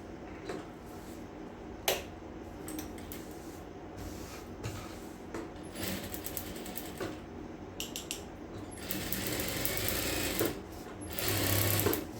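A sewing machine stitches a supermarket bag in bursts of fast, rhythmic mechanical whirring, with brief pauses and a sharp click between runs, fairly close.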